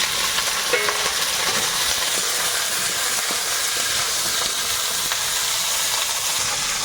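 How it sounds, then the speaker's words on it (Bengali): Okra fries in a wok with a constant, even sizzling hiss that stays steady throughout, close and without voices. "এর মধ্যে ঢেঁড়সটা দিয়ে ভেজে নেবো"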